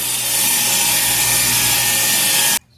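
A power saw rips through a wooden lantern piece in a single loud, steady cut lasting a couple of seconds, then stops sharply into quiet.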